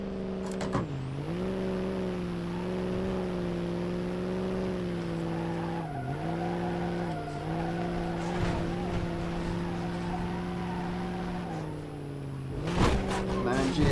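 Dansworth C1500 pickup truck in the BeamNG.drive game, its engine droning steadily at close range with pitch dips as it shifts, rough tire noise and skidding near the end, with some talk over it.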